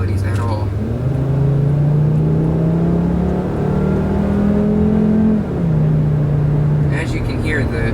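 A 2012 Volkswagen Passat's 2.5-liter five-cylinder engine hums steadily while driving, with its pitch rising and falling gently under a constant road rumble and no talk.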